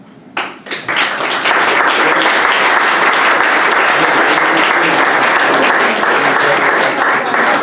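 Loud, full audience applause at an Armenian studies panel event swells up within the first second and then holds as a thick, continuous roar of clapping to the end.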